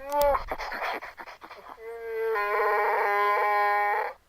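A voice imitates heavy, rasping breathing: a few ragged breaths that give way to a long, droning growl, close and fairly loud.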